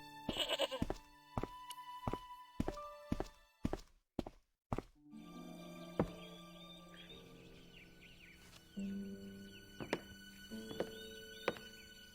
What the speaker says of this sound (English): Silly goat.